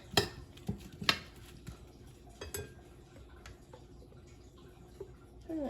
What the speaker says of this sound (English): I'm just going to toss it a little bit so I can evenly coat the Brussels sprouts a little bit with the Parmesan